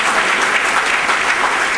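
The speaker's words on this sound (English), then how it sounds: "I like to ask the audience to give a big applause to His Executive Secretary General." Dense, loud applause from a conference audience at an ASEAN business summit honoring a secretary general, continuous and uniform throughout with no speech.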